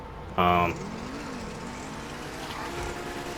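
A Torero XO in GTA 5 launches with a clutch dump: a brief sharp burst, then a low engine drone that climbs slightly and holds steady, with talking over it.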